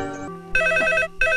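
A telephone rings in a Hindi comedy film scene, with two loud electronic ring bursts separated by a short pause after a quieter opening.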